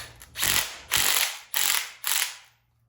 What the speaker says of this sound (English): I take a little socket in my impact